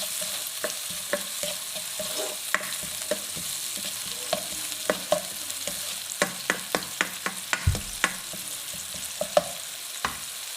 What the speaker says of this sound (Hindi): ये हमारे जो है बॉल भी फ्राई हो रहे हैं